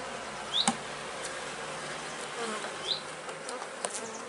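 Honeybees buzz steadily around an open hive being closed after queen grafting with royal jelly, a dense close drone with a few individual bees whining past, and no voices.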